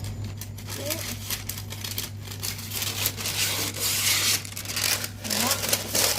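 Crinkly parchment paper rustles and rubs in bursts over a steady low hum, with a voice murmuring softly in the background.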